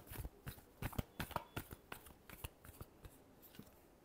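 Tarot cards being shuffled by hand, a quiet series of soft papery riffles and flicks in irregular bursts, close and faint with no talking.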